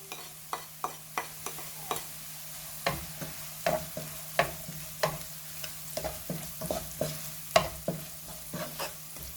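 Onions and garlic frying in a pan, with repeated sharp clinks and scrapes of stirring over a steady low sizzle, close and moderately loud, with no talking.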